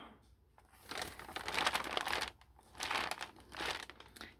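Crinkly coffee-dyed paper handled close up, giving several bursts of crisp crackling and rustling separated by short quiet pauses.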